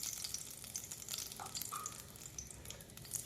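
Tempering spices for buttermilk khichdi, including fenugreek seeds, curry leaves and asafoetida, sizzle in hot oil with a dense, continuous close-up frying hiss and faint crackles throughout, with no talking.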